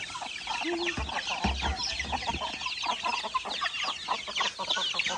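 A flock of chickens on a farm clucks busily up close, one bird letting out a drawn-out call near the start, with steady chatter and scattered cackles continuing over a constant background.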